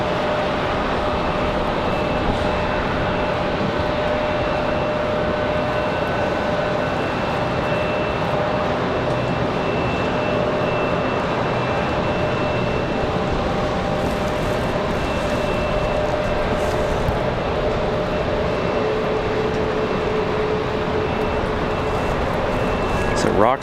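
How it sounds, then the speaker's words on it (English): Air Canada jet taking off from runway 23 at Raleigh-Durham airport in snowy, windy weather, heard as a steady, loud broadband roar lasting throughout, with tonal engine whine lines held over the whole span. "Air Canada cleared for departure."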